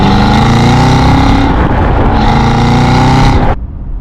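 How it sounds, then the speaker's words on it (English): Cadillac CT5-V Blackwing 120th Anniversary Edition with its exhaust in track mode, a loud, close, rich engine note that burbles and swells steadily, then cuts off sharply near the end. "We able to put it in track exhaust sound so we can get some nice burbles"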